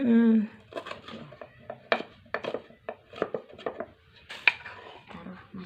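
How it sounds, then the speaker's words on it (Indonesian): A knife chops garlic and shallots on a board in a series of irregular, close taps, with a person talking throughout. "Bawang putih, Bawang merahnya, bawang merah dicincang juga."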